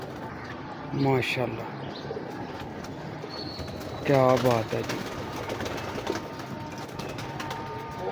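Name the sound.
golden pigeons cooing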